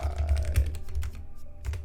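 Quick, fairly close clicks of typing on a computer keyboard come in an uneven patter, with short pauses between bursts and no talking.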